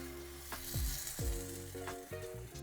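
Naan dough laid wet side down in a hot lightly oiled pan, giving a steady sizzle with a few clunks and scrapes as it settles.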